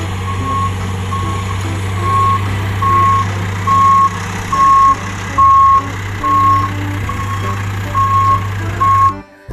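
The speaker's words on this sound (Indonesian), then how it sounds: "Yang ini ada mobil dump truck." A toy dump truck sounds its reversing alarm, a steady series of about nine evenly spaced electronic beeps over a constant low motor hum.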